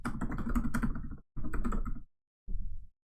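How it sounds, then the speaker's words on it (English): Bursts of typing on a computer keyboard, with close, rapid clattering keystrokes in two runs followed by a shorter final flurry, then silence. "I love how it never comes up when I type it in."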